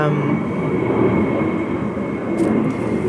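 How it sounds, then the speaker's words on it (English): An airplane passes overhead as a steady, broad rumbling drone that holds at an even level throughout, with no voices over it. "let's wait for the plane to go away."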